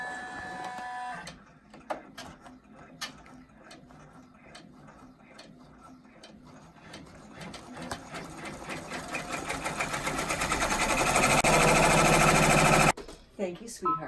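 An embroidery machine stitches a mug rug, starting with separated mechanical ticks and building into a fast, loud, steady rattling run before stopping abruptly near the end.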